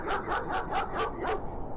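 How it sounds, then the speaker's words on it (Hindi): A dog barks loudly and repeatedly, four or five quick close barks in a row that fade out at the end. "फिर जोर जोर से भौंकने लगा।"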